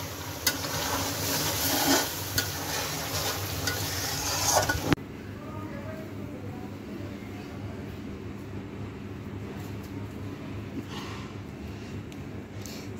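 Luchi puffed flatbread frying in hot oil gives a loud, steady hiss of sizzling for about five seconds, then fades to a softer, continuous bubbling fry.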